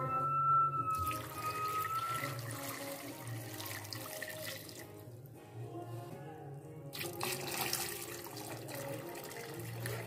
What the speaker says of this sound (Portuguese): A gente vai colocar água aí até cobrir, pra deixar cozinhando.